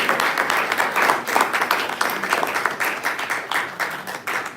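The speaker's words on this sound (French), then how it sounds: "Acclame pour toi-même." A church congregation applauds steadily, a dense, fairly close wash of many hands clapping with slight rhythmic swells, lasting the full stretch with some voices faintly underneath.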